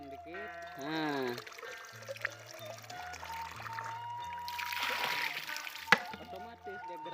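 Water pours and trickles through a bamboo pest-scaring spout (pancuran sayong) fed by river water through a pipe, heard outdoors at moderate level with tonal music and voices over it.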